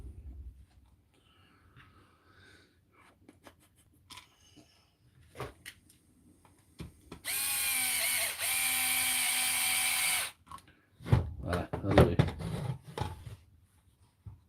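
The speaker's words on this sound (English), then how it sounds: "try and get something to Dremel down that side" A Dremel rotary tool grinds down the side of a tool under repair in a steady high-pitched whine lasting about three seconds, with scattered clicks and handling noises before and after.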